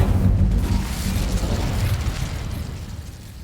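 A fiery Incendio spell blast in Hogwarts Legacy, a loud, broad burst that swells at once and then holds as a dense, slowly fading roar, with no talk over it.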